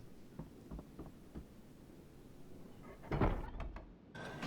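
A door locks shut behind the player in the 2003 Harry Potter and the Philosopher's Stone video game: soft thuds over a low ambient hum, then a louder mechanical clunk and rattle near the end, with no talk.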